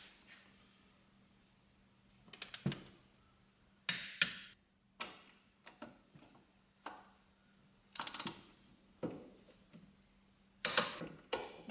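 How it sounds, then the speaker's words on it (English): A torque wrench tightening wheel bearing bolts on an Infiniti Q50: crisp close ratcheting clicks in short bursts separated by pauses, quiet background hum beneath, no voices. "we're going to hit these with our torque wrench"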